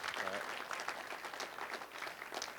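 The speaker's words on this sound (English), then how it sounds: "So you can clap it up here as we go along." An audience at a Gaylord venue event claps in a dense, steady round of applause, somewhat distant and fairly soft, with a voice faintly heard over it.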